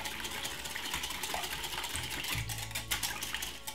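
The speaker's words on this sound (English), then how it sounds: "So I'm just whisking this for about a second." Cream is whisked briskly in a bowl for a quiche, giving a steady, dense whirring swish that runs unbroken for a few seconds with no talking.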